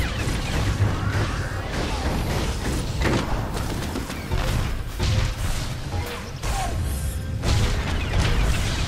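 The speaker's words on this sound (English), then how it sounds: "he has these droids which come out and will come next to somebody and blow themselves up" Droids blow themselves up during a boss fight in Star Wars: The Old Republic at Hammer Station, with repeated loud booms, crashes and mechanical clatter layered over dense, continuous game action.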